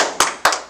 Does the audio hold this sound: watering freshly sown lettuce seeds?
no